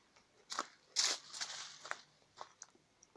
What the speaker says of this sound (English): And we've got some more runner beans. Very crunchy.